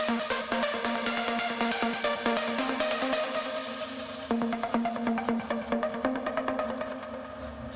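Another Icarus synthesizer lead voice in a Dreamstate Europe 2020 trance anthem, a dense, bright sawtooth-like tone with rapid rhythmic gated pulses driving steadily throughout.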